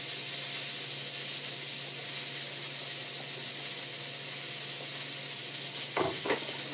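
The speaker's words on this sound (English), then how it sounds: "I'm going to add these swordfish to the frying pan now" Swordfish sizzling in a frying pan, giving a steady, even hiss of hot oil throughout, with a brief clatter near the end and no talking.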